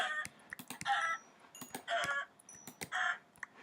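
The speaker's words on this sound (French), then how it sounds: "c'est des poules" Chickens in Minecraft cluck and squawk in short, repeated bursts, fairly close, with sharp clicking sounds scattered between the calls.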